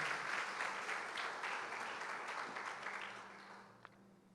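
A church congregation applauds together, dense sustained clapping that gradually fades out over a few seconds.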